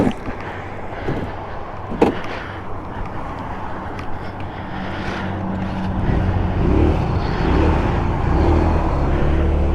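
A GY6 150cc scooter engine fitted with a new exhaust runs nearby, chugging unevenly with a few sharp pops before the revs rise and it settles into a louder, steadier drone.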